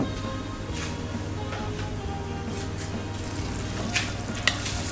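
Pork menudo with vegetables cooking in a pan, a steady loud sizzle with low bubbling and a few sharp clinks or stirring scrapes near the end, close up and without talk.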